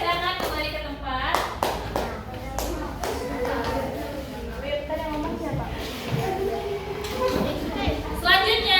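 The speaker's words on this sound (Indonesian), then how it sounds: "Tepuk tangan buat kelompok 1" A classroom of pupils claps in an uneven burst of applause for a presenting group, hands patting close and loud while children's voices and a teacher's talk run underneath.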